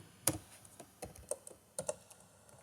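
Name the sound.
typing C++ code on a computer keyboard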